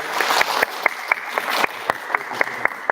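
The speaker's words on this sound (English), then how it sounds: "If you wouldn't mind joining me and giving the speakers another round of applause." An audience claps for the speakers at a history workshop, steady applause with sharp individual claps standing out, moderately loud and thinning as it goes on.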